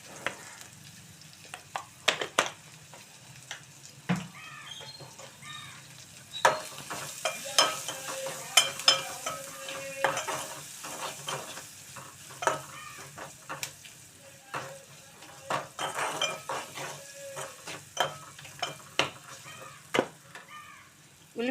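Sliced onions with a spoon of turmeric soften in a pan for a cucumber-tomato curry, giving a soft, steady sizzle broken by frequent clinks and scrapes of stirring, with a few faint chicken clucks in the background.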